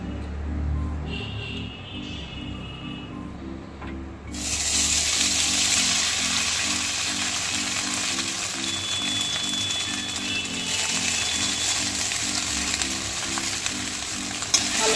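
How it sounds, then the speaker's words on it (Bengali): Chowmein noodles drop into hot oil in a kadai for street-style egg chicken chowmein, and a loud, steady sizzle and crackle rises and holds under a low rhythmic hum. "এবার আমি তেলের মধ্যে চাউমিনগুলো দিয়ে দেবো।"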